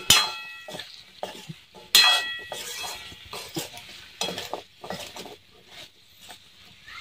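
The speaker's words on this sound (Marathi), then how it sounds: "परत मिक्स करून घ्यायचे व्यवस्थित" A spoon scrapes and clinks against a pan while stirring bottle gourd (lauki) sabji, giving irregular close metallic taps and softer scrapes spread over several seconds, alone without talk.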